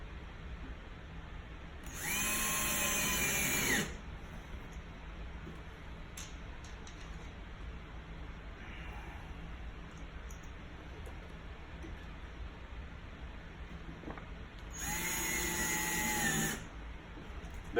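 A power drill drives screws into a Quick Door Hanger bracket while hanging a prehung door, with two separate whirring bursts of about two seconds each, far apart and distinct against a quiet room.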